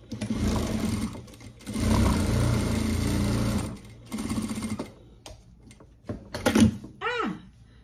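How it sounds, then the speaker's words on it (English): Bursts of rapid mechanical sewing machine stitching, running in several runs of a few seconds each, with short pauses and a brief voice near the end. "So this sewing machine,"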